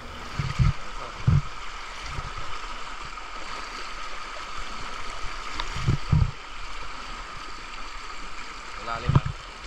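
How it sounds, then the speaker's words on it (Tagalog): Rushing river water at a riverside campsite flows steadily underneath, with occasional splashes and voices speaking intermittently over the current. "Medyo malakas ang agos ng tubig."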